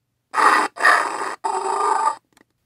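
Three short, harsh electronic growls in quick succession from a 1997 The Lost World: Jurassic Park toy dinosaur figure, loud and close, with no talking.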